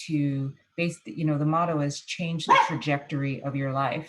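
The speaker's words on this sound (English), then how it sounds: "Sorry about the dog." A dog barks repeatedly in the background during a panel discussion, its sharp yips breaking through a man's continuous close speech.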